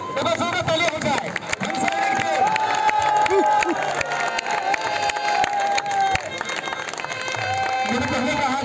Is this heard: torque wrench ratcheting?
no